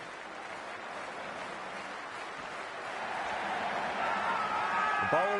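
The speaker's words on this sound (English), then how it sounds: "already the crowd making a hell of a racket" A cricket stadium crowd before an IPL match between RCB and LSG keeps up a steady, loud roar that builds gradually toward the end, with a few cheers rising near the close and a commentator's voice heard over the din.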